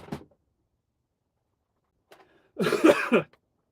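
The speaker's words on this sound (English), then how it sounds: "Introduce you to the channel with a lovely cough." A single throaty cough bursts out loud and close near the end, preceded by a short faint breathy sound at the start and a quiet shuffle, with no talking.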